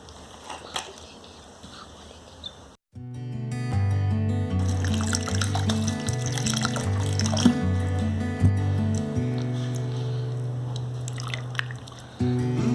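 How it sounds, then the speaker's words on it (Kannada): Water is poured into freshly churned homemade cow butter in a vessel, a close, steady liquid trickle with gurgling and occasional drips, preceded by a few seconds of quieter handling sounds. "ಇವಾಗ ಸ್ವಲ್ಪ ನೀರು ಹಾಕ್ಕೊಳ್ಳೋಣ"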